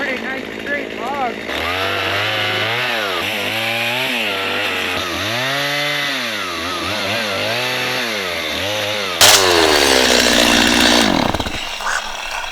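A chainsaw cuts through a straight log in remote Alaska, its engine loud and close, revving and bogging in repeated swells before a harsh clatter as the chain comes off; someone speaks over the noise.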